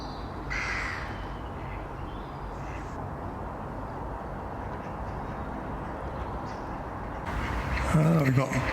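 A couple of crows caw at a wetland nature reserve among coots, moorhens, gulls and mallards, the calls faint and mixed into steady outdoor background noise, with a louder burst near the end.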